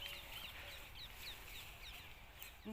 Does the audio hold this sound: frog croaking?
no